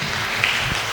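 A church congregation at a Kikuyu-language service claps hands together, a dense, continuous wash of applause filling the short moment without speech.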